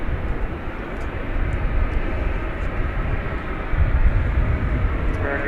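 A jet airliner takes off from runway 18 left at DFW Airport at night, a loud, steady engine roar that swells slightly toward the end, heard from outside near the field with faint ticks in the background.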